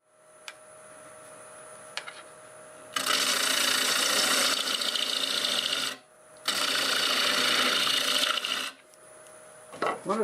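Wood lathe spinning at 900 RPM while a gouge hollows a cracked bowl blank: a quiet motor hum broken by two loud, rough cutting bursts of several seconds each, close up, with no talking.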